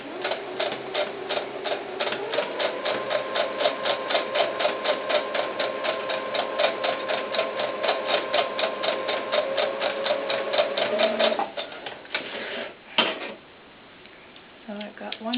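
A sewing machine stitches a doll-sized baseball cap, its needle running in a steady rapid rhythm for about eleven seconds up close before stopping, with brief handling clatter after.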